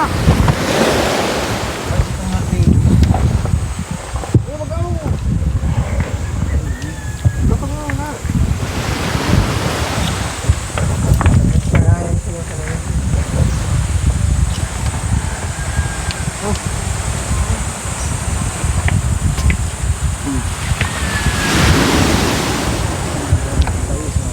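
Steady roar of sea waves breaking and washing ashore, with wind buffeting the microphone throughout; no clear speech.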